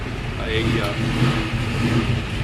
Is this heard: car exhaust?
yes